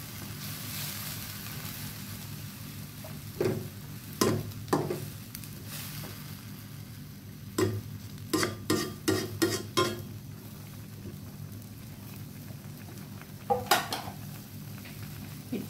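A spoon stirs glass noodles into a pot of Isan-style pork bone curry, with a run of clinks and scrapes against the pot, spaced at first and then in a quick cluster, over a steady low simmer.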